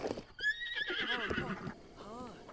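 A horse whinnies loudly up close in Zelda: Breath of the Wild, its high, wavering neigh followed by snorting and softer calls, with faint hoofbeats beneath.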